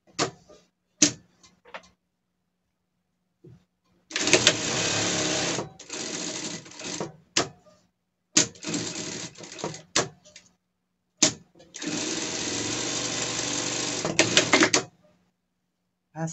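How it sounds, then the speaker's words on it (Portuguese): Sewing machine topstitching the strap of a doll dress, several bursts of fast rattling stitching lasting one to three seconds, separated by silence and sharp single clicks from the machine. "Vamos prespontar a alça aqui."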